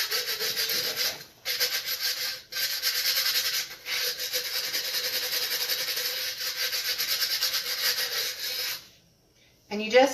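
Broken wine bottle glass is rubbed against heavy-duty sandpaper in long, steady rasping strokes, close and loud, with a few brief pauses and a quiet gap near the end.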